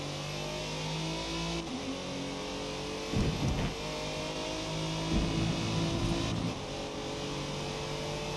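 Car engine in Forza Motorsport under hard acceleration on a track, with steady mid-pitched revving broken by two clear gear shifts where the pitch drops and the engine note briefly roughens, loud and close with no talk.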